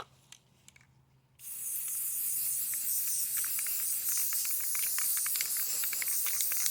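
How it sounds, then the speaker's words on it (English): After a brief quiet start, a spray paint can begins a steady, loud aerosol hiss onto canvas and continues without pause, with faint rhythmic ticks running underneath. "I'm gonna spray my khaki"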